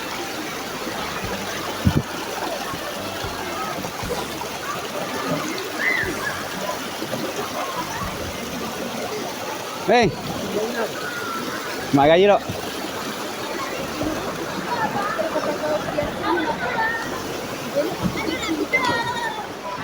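Waterfall at Desa Ulu Maras during a busy holiday, with a steady broadband rush of falling water and occasional splashes while visitors chat and call out nearby over the flow.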